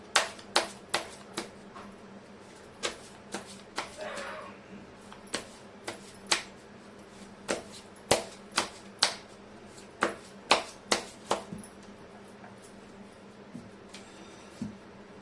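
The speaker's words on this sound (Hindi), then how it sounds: "मैं कर लेती हूँ कार्ड की शफलिंग।" Tarot cards being shuffled by hand during a Hindi card reading, a series of sharp, close snapping riffles spaced irregularly over a quiet background, with no talking.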